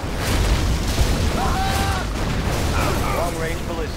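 A loud, booming particle cannon blast from the video game Command & Conquer Generals, with a dense roar and whining tonal sweeps, continuous for several seconds.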